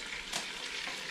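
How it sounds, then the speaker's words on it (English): Pot roast sizzles in an Instant Pot, a steady close frying hiss with a faint crackle and no talking. "now that you can hear it sizzling"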